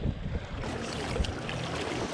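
Rough water churning on the Madison River in Montana, a close, rushing wash buffeted by wind against the microphone.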